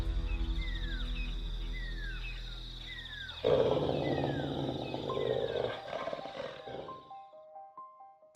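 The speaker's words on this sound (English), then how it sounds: "bear roared, a deep, forest-shaking sound" A bear lets out a deep, drawn-out roar in a forest setting, loud and close, rising abruptly after a low rumbling build with chirping calls in the background.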